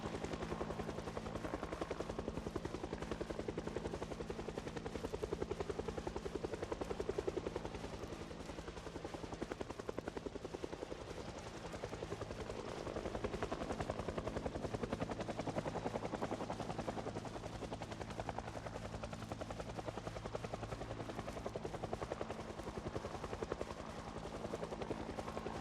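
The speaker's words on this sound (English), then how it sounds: "Helicopter is loud." Steady, loud helicopter rotor drone in the zombie survival game Project Zomboid, a continuous overhead thrum holding for the whole stretch with no talking over it.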